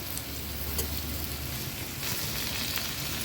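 Green birde beans (field beans) stirred through sizzling masala in a pan, a steady close frying hiss with faint scraping clicks of the spoon, no voices.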